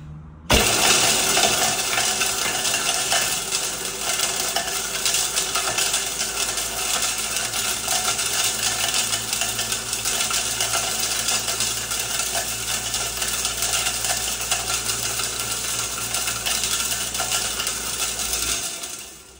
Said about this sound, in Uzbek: Endi mana shu protsessni bitta aralashtirib boramiz